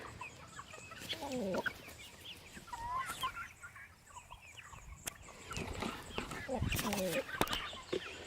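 Chickens cluck and squawk in a busy, overlapping chorus, with sharp calls popping up throughout and a few voices talking underneath.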